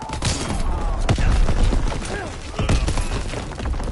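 Artillery barrage in the World War II shooter Call of Duty: WWII, a dense continuous roar of blasts and gunfire with sharp impacts near the start and middle, busy and loud throughout.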